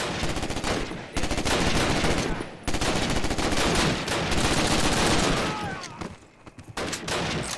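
Dense gunfire in the World War II shooter Call of Duty United Offensive, rapid repeated shots in long bursts with short gaps, loud and close, with a big pistol among the weapons.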